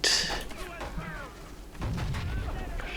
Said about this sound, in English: So, I can hear a lot of explosions.